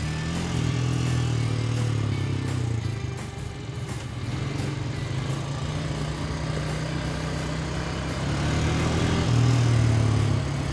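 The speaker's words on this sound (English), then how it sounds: "And you have to do it all by quad." A quad ATV engine drones loud and close while riding through rainforest near Anchorage, Alaska, with a steady rumbling hum that rises and falls slightly as the machine moves.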